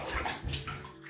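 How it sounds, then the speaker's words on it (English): Feet sink and slosh into water in a shallow tub, a brief close wet splashing and gurgle with no talking. "I'm going to see, can I walk on water or do I sink?"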